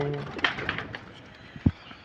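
Kalsari pigeons give a brief, soft coo close by, with a short sharper bird note near the end, over a faint background.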